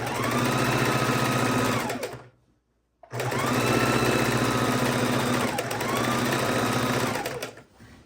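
A domestic sewing machine runs fast and steady while sewing binding onto a Christmas quilt, in two long bursts separated by a brief silent pause, loud and close.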